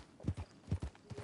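Horse hooves clip-clop in a Red Dead video game, a few quick paired hoofbeats in steady rhythm, fairly close and moderately loud, with no talking.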